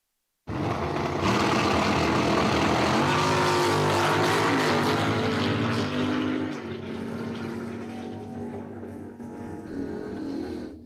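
Drag race at Empire Dragway, a Copo Challenger against a WS6 Firebird: after a moment of silence, loud racing engines erupt and rev hard, then ease to a lower, fading drone.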